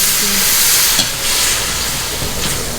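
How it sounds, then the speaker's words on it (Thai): Thai kaeng sanat curry from Nan being stir-fried in a hot pan, a dense steady sizzle and hiss heard up close with occasional scrapes and stirring knocks, loud and continuous without speech. "ใส่แกงที่เราทำไว้เนี่ยลงไป ลงไปผัดนะคะ"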